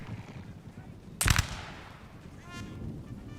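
A single loud cannon blast from a battle in Empire: Total War, a short booming burst that stands out over steady low battle rumble and distant noise.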